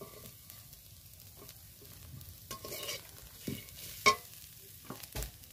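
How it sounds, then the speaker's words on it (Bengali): Mixed ground spices, including cumin powder, are stirred in a pan with a quiet, low sizzle under scattered scraping taps and a few sharper spoon knocks against the pan. "সবগুলো মশলা আমি একসাথে একটু নেড়ে নেব ভালো করে।"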